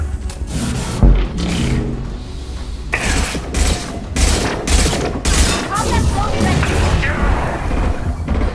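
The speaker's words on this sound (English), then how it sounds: "Taking heavy fire!" Heavy gunfire erupts in the video game Mass Effect 2, dense bursts of automatic shots and booms in close succession, with a game voice speaking over the battle.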